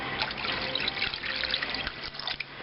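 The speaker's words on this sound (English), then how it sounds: "So now I'm going to add my water." Water pours steadily into a soup pot while chicken soup with open kettle dumplings is being made, a continuous close splashing gush lasting throughout.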